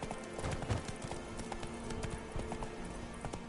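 Roach the horse in The Witcher III trotting with a steady run of hoof clip-clops, close and fairly loud over a busy game backdrop.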